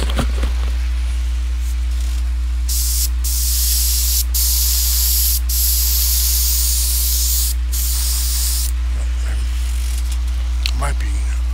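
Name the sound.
airbrush spraying paint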